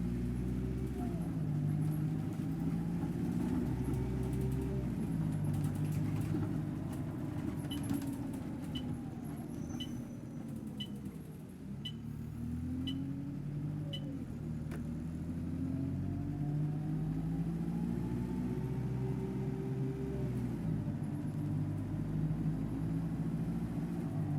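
A London Citybus C200 bus with a ZF gearbox in OMSI 2 gives a steady low engine drone with rising and falling gear whine as it pulls through shifts, continuous and fairly quiet.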